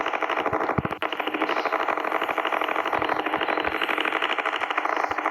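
A tractor engine runs on a farm with a fast, steady mechanical rattle and chug, close and continuous, with one brief sharp knock early on.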